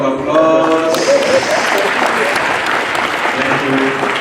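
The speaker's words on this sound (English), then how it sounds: "A round of applause." Sustained applause from a large audience at a public service awards summit in Nairobi, loud and dense clapping that fills the whole stretch, with a few brief voices underneath.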